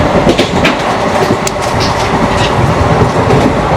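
An express train rushes along at roughly 120 km/h, its loud, continuous rumble heard from on board with a fast clickety-clack of wheels over rail joints. No voices.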